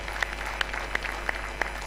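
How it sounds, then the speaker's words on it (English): Applause from the audience at an inaugural lecture: a thin, sparse patter of clapping with a few distinct sharp claps standing out at moderate volume. "let us give her a hand of applause"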